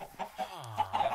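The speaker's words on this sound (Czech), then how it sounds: "Jdeme nakrmit tyto slepičky." Domestic hens cluck in short, close bursts from a backyard flock, with a few soft calls overlapping in a quiet yard.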